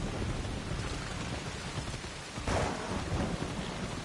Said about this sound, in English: Thunder and lightning too.